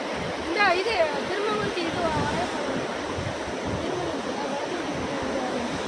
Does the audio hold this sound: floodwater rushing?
yes